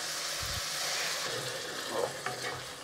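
Boiling water is poured into a pan of simmering chickpea curry with tomato, ginger and garlic, giving a soft, fairly quiet sizzle with bubbling and splashing swells near the end.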